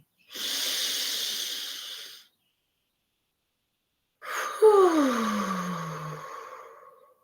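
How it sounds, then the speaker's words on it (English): Slow, relaxed breathing during a mindfulness exercise: one long, steady breath, a pause of silence, then a second long breath that ends in a soft voiced sigh, heard close and clear. "You want to keep your body focused and relaxed on your breath."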